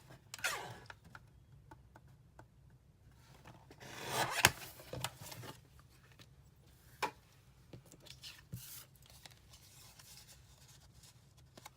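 Scissors cutting paper for a handmade Father's Day card, a few quiet scattered snips and rustles with one louder scraping cut in the middle, close by and without talk.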